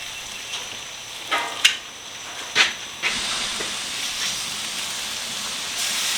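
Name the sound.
bacon frying in a pan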